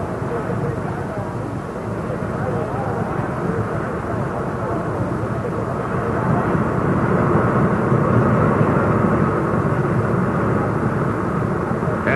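Jet dragster engines with afterburners roaring at a night drag race during 1980 nationals, a steady loud broadband rumble building slightly midway, continuous throughout, with crowd or announcer talk mixed underneath.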